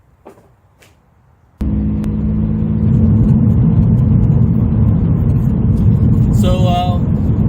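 Subaru BRZ with a Remark Elite Spec cat-back exhaust starts up and then drones steadily while driving, a loud close engine and exhaust hum that runs without a break to the end.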